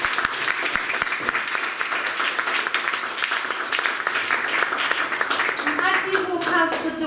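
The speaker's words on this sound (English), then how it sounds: "I think, round of applause." Loud, dense applause from a conference audience at a Theatre of the Oppressed session, continuous clapping throughout with scattered voices and a few cheers rising over it toward the end.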